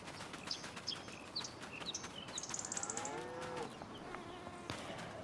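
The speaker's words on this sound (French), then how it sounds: "Ça c'est le champ des vaches" Cows in a field in Farming Simulator 25 moo several times in low, drawn-out calls, mixed with bright chirping birdsong and a steady outdoor ambience, with no talking.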